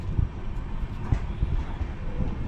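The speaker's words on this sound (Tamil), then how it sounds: "இப்போ ட்ரெயின் தான் போயிட்டுருக்கோம்." Inside a train running from Mangalore to Udupi, a steady low rumble of wheels and carriage fills the space, with soft irregular knocks riding on the continuous hum at a moderate level.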